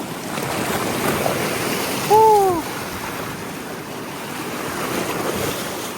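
Strong ocean surf breaks on a paradise beach as a steady, broad close roar, with a short two-note hoot or whistle cutting through briefly in the middle.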